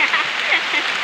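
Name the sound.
rain falling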